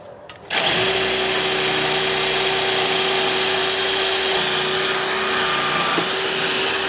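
A power drill bores a hole into a wooden roof eave, starting abruptly with a steady high motor whine and grinding that runs loud and close for several seconds without speech.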